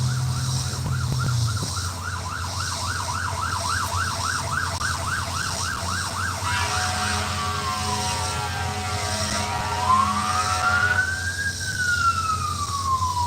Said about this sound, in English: these are ambulances that keep going by